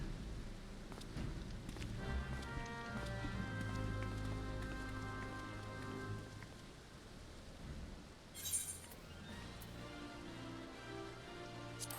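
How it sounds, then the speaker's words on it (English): Steady rain falling in a desert zone of Final Fantasy XIV, a soft continuous patter under game music, with a brief louder splash near the end. "for a desert, this place sure gets a lot of rain"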